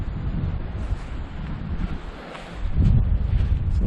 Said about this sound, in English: But since this is a very windy place, I hope that it calms down.